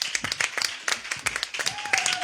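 A church congregation claps in quick irregular bursts to acclaim the Lord, close and lively, with voices mixed in underneath.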